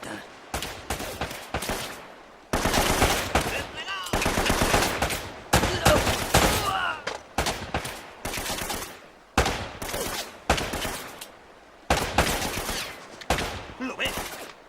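Bursts of rapid automatic gunfire from Uncharted: Drake's Fortune come in repeated loud volleys of about a second each, separated by short gaps, with crackling shots that sound close.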